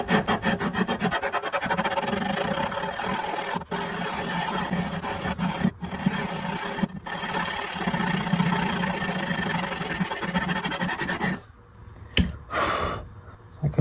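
Hand sanding of the frets on a Guild D40 guitar during a neck reset makes a steady rhythmic rasping rub, continuous and close, then stops near the end and leaves a few faint scrapes.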